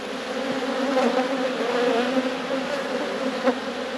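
A dense swarm of honeybees drones steadily around an open hive during an inspection, close and continuous, with faint bumps but no talking.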